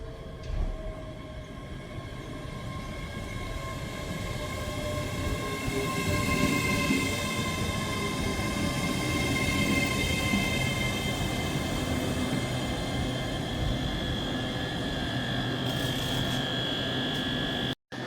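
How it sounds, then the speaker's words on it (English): ScotRail class 385 unit 385102, a four-carriage train, running through Edinburgh Gateway station: a steady, fairly loud rolling rumble with tonal whine and wheel noise that builds and holds for the whole stretch, cutting off abruptly at the end. "Departing out now is the 1517 Scotrail service from Dunblane to Edinburgh Waverley."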